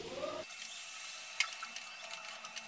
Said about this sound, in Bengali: এবার আমি এর মধ্যে দিয়ে দেবো গরম জল।